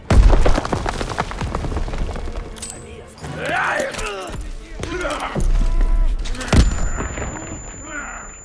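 Grenade blasts and bursts of gunfire in the World War II shooter Call of Duty WWII, with loud booms and rattling shots throughout amid battle noise and shouted voices.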